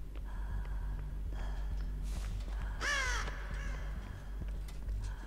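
A raven in the horror video game Dead by Daylight gives one loud, rasping caw over a low rumbling game ambience, with soft clicks and rustles around it.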